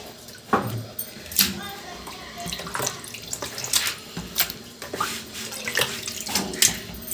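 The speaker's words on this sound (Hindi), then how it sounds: "देखें जी, मैंने इसको अच्छे तरीके से धो लिया, वॉश कर लिया।" Tap water runs over chopped meat, mutton offal, being washed in a kitchen sink, with splashing, sloshing and handling noises that come in irregular bursts close by, and faint background noise.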